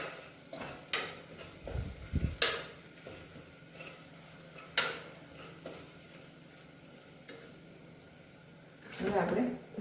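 A spoon stirs turmeric powder, salt and chilli paste in a pan for sweetcorn chevdo, making scattered scrapes and clinks over a soft sizzle, with a few sharper utensil knocks and a voice talking in between.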